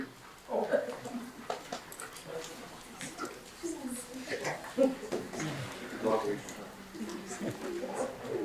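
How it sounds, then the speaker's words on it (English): A police K9 dog at a county legislative meeting whimpers and yips in short bursts amid a roomful of talking voices and shuffling, moderately close but partly masked by speech. "So please bring the officers up and the dog up, and Jeff, you coming up?"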